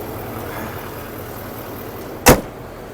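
The hood of a 2024 GMC Sierra 3500HD Denali pickup slams shut with a single loud, sharp thud near the end, following a quiet stretch of faint ambient hum.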